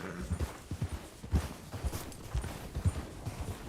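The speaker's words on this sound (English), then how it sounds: "Stop messing around with that horse." Horse hooves clip-clop in the video game Red Dead Redemption 2, a quick uneven run of close thuds with a faint ambient backdrop beneath.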